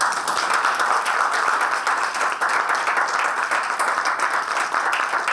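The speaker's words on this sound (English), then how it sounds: "So can you again clap for now 7 seconds?" Steady, dense clapping from a conference audience at a GoT 2022 software testing talk, a continuous even burst lasting the whole few seconds with no voices over it.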